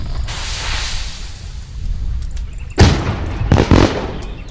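Fireworks going off in the video game My Summer Car, with hissing, crackling bursts, followed by two louder, sharper blasts in quick succession near the end.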